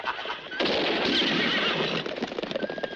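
Horses neigh and whinny in a 1967 western film as they are frightened away in a desert shootout, a loud, sustained cry close by, followed by scattered hoof clatter and rustle.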